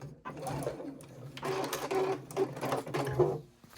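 Sewing a triangle pouch, a machine backstitches in quick, close mechanical bursts with a brief stop and restart in the middle.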